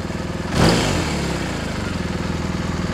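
A motorcycle fitted with a Jekill & Hyde exhaust with its valve shut, giving a steady, throbbing engine note close by. A brief swell early on settles into an even pulsing rumble, with no voices.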